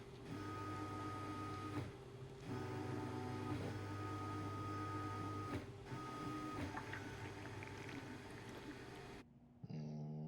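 A printer machine in The Division 2 runs with a steady mechanical hum and whir, continuous and fairly loud, with brief pauses in its drone before it cuts off near the end; no one speaks.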